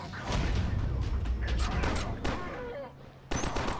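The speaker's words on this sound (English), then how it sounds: "Totally just shot my friend right there." Dense gunfire from the shooter game Killzone Mercenary on PS TV: rapid, loud bursts and sharp reports over a thick battle din, with a heavy burst near the end.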